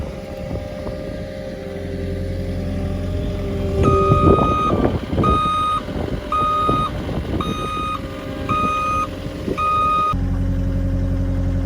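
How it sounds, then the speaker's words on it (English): A full-size remote-control CAT 242D skid steer reverses with a steady series of electronic backup beeps, about six evenly spaced pulses over a running engine, close and fairly loud, stuck near a muddy Cub Cadet SZ-Tank mower. "So, we'll back the skid steer up."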